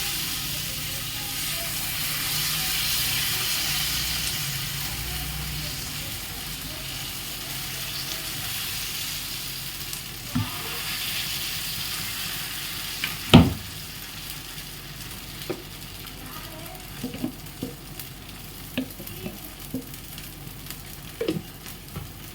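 Instant rava-style dosa batter, without onion, poured onto a hot pan: a steady soft sizzling hiss runs throughout, with occasional sharp clicks and taps of a utensil against the pan.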